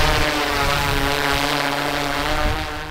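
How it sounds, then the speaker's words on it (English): A drone flies overhead with a steady, loud propeller whine and stable harmonic tones, holding constant for about three seconds before easing slightly at the end. "the drone is up there"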